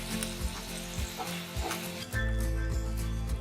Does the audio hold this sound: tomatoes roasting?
yes